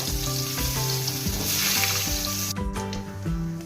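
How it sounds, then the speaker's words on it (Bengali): Potatoes frying in hot oil in a kadai, a steady loud sizzle running unbroken throughout, with a brighter hissing surge partway through and no voices over it. "আলুগুলো ভেজে নেব।"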